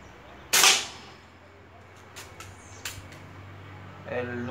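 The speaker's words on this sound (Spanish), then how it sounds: "Disparo número 8 ahora." A single sharp, loud shot from a homemade PCP air rifle cracks nearby, followed by faint clicks and a brief voice near the end.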